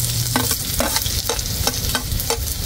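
Chili, onion, garlic and tomato sautéing in a hot pan, a steady close sizzle with repeated stirring scrapes every fraction of a second, no voices.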